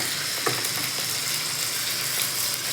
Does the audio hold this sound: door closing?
no